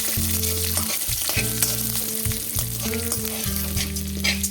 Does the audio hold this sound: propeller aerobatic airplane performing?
no